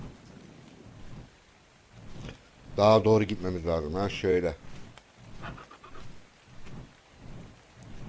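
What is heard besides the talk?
rain in ARK: Survival Evolved video game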